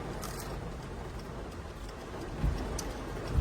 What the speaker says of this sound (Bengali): গাইজ এত বৃষ্টি হচ্ছে বাইরে থেকে